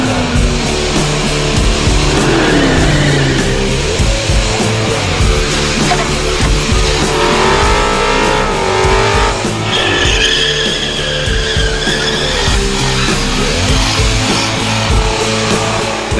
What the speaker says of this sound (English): Commodores engulfed the place and themselves in freshly churned out tyre smoke